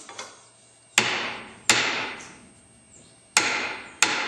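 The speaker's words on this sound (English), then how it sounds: "See how nicely that splits?" A wide blade is struck with sharp, loud blows to cleave wood for the braces of a 1920s Gibson L0 acoustic guitar. Four distinct hits come in an uneven rhythm, each ringing briefly before it fades.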